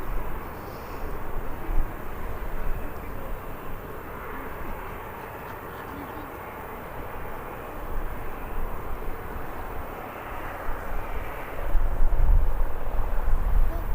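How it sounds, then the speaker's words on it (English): Ryanair airliner on final approach to Birmingham airport, a steady broad engine roar and rushing hum that holds throughout, moderately loud with a slight swell near the end and no talk. "There's definitely a Ryanair on it on finals."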